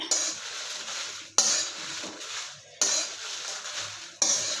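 Byadgi chillies, cut open in the middle, being stirred in a hot dry pan with no oil, giving a steady scraping rustle in repeated strokes of about a second and a half each, close and alone.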